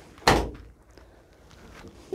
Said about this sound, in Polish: możemy otworzyć drzwi.